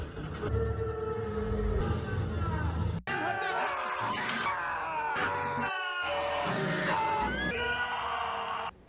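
A character in the superhero film Blue Beetle screams and yells in strained, drawn-out bursts, broken by abrupt cuts and mixed with other film sound, loud and close.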